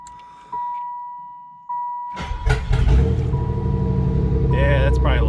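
A 1994 Pontiac Trans Sport minivan engine, freshly repaired, cranks and catches, then runs loudly and roughly at close range, a steady broad roar with rattling after a quiet start with faint tones.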